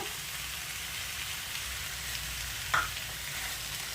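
Sugar being stirred into beetroot halwa cooking in a pan, a low, even bubbling sizzle with a single brief scrape or clink partway through, quiet and close.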